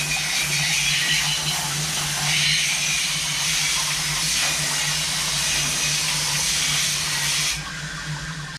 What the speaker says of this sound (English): we'll just rinse this shit off and see how it comes up